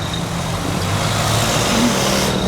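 Road traffic with cars and trucks rumbles by in a steady, loud low drone, engines idling and rolling close at hand without any talking.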